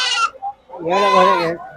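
Sheep at the Pavagada sheep market bleat loudly and close by: a short cry followed by a longer, wavering bleat.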